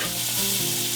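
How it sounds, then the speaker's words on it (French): Onions frying in rendered bacon fat for a quiche lorraine, a steady close sizzle with faint stirring, no talking. "Le feu, on rallume et on met les oignons"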